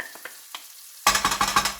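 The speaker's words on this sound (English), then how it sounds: "Now, in goes the onion. Oh, lovely. Sizzle." Onion hits a hot frying pan with a sudden loud sizzle that keeps crackling and hissing in pulses, after a few quiet clinks and taps.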